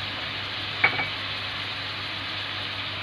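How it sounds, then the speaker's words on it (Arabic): Alexandrian-style liver frying in a pan, a steady soft sizzle with a single clink of a utensil scraping the pan while it is stirred. "ونقلب بقى ده كله كده مع بعضه"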